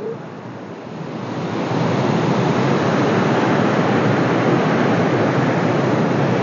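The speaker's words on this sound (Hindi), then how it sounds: "ये देखें पानी कितनी स्पीड से जा रहा" Fast-flowing water of the Chenab river at Qadirabad Barrage rushes in a steady, loud, broadband roar that swells over the first two seconds and then holds constant, with no voices over it.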